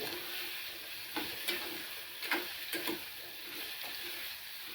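Bottle gourd curry fries in a pan while a spoon stirs it, giving a soft steady sizzle broken by several sharp scraping clicks near the middle, close by and fairly quiet, with no speech.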